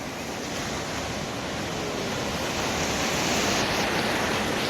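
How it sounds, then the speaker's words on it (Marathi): Ocean surf washes onto a beach in a continuous, loud roar, with wind rushing across the microphone and no voices. "किती स्वच्छ स्वच्छ समुद्र किनारा आहे"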